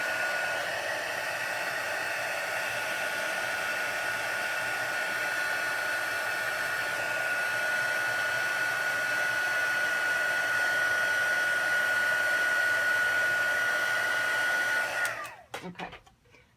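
Heat embossing tool blowing hot air steadily over a Halloween raven card, a constant whooshing hum held for about fifteen seconds before it cuts off abruptly near the end.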